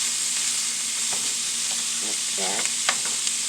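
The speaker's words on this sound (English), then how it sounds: "we're gonna cook the meat until it's cooking golden brown" Meat frying in a pan until golden brown, giving a steady hissing sizzle throughout with a few faint clinks; a voice speaks briefly partway through.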